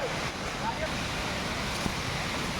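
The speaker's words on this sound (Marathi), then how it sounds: "तर आता तुम्हाला सगळ्यांना पाण्याचा आवाज येत असेल" A waterfall in dense Konkan forest at Kusumalewadi roars as a constant broadband rush of falling water, even and unbroken throughout, with a voice faintly present underneath.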